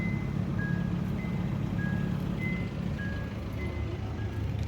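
A car sounds short, evenly spaced reversing beeps while parking at a park, the faint pips repeating steadily over a constant low engine rumble with no talk.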